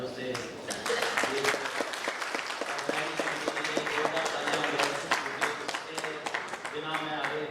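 Audience at a convention hall in Bihar claps in a dense, continuous round of applause, with individual sharp claps standing out over a steady crowd murmur.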